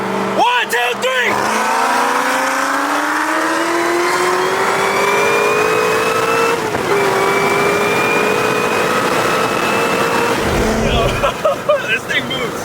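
A 1000HP ZR1 Corvette with nitrous launches in a street race, its engine revving hard and climbing steadily through a long pull, with a brief gear change midway. The sound is loud and close and no voices are heard.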